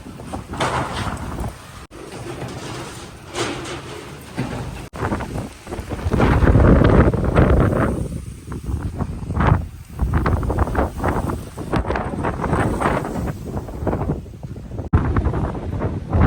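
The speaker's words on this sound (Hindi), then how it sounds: "हमारे इलाके में आंधी आ गई है" A strong windstorm gusts through a Pakistani village, loud buffeting wind roaring against the microphone in surging waves, with occasional sharp knocks and no speech.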